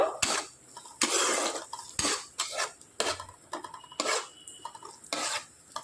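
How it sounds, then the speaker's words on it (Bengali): Two medium onions, chopped small, being stirred in a pan: a series of close, bursty scraping and rattling strokes of a spoon against metal, roughly one per second, over a light sizzle. "দুটো মিডিয়াম সাইজের পেঁয়াজ ছোট ছোট টুকরো করে কেটে রেখেছিলাম দিয়ে দিচ্ছি পেঁয়াজটা একটু নাড়াচাড়া করে নেব"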